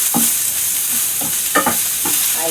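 Garlic fries on medium heat in a pan while being stirred, giving a constant loud sizzle with scraping stir strokes at irregular intervals.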